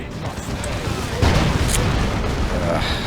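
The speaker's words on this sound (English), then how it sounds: "we got the Demolisher Cannon coming straight onto the Devastators" A Demolisher Cannon shell slams into Devastators in a Dawn of War 2 Retribution match, one heavy boom about midway after lighter battle noise, with a commentator talking over the game sounds.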